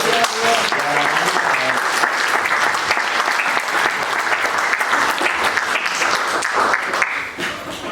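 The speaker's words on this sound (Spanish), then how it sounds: "¿Pueden dar un aplauso al Señor?" A large church congregation applauds steadily and loudly for several seconds, a dense wash of clapping that fades slightly at the very end.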